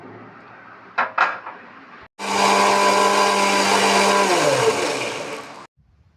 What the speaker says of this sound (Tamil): பேஸ்ட் மிக்ஸி ஜாரில் ட்ரான்ஸ்ஃபர் பண்ணிவிட்டு நல்லா நைஸாக அரைச்சிட்டு வந்துடுங்க